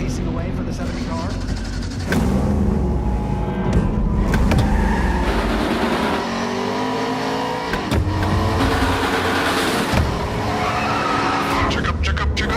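Stock race cars roaring and skidding around Bristol Motor Speedway in the iRacing game, a loud, continuous engine drone with shifting pitch sweeps and tire squeal, heard under an excited race commentator.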